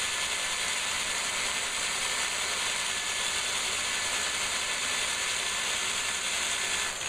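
A Glastar drill bit grinding a hole into scrap red stained glass, a continuous harsh buzzing whir with a steady gritty rasp, close and constant with no voices.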